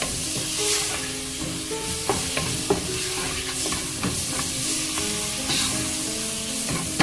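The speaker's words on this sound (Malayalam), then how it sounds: "ഇനി അതിലേക്ക് നമുക്ക് അരിഞ്ഞു വെച്ചിരിക്കുന്ന തക്കാളി ഇട്ട് കൊടുക്കാം." Finely chopped tomato sizzles in hot masala as it is stirred in a pan for a fried chicken curry, with repeated spoon scrapes and clinks over a constant close crackle.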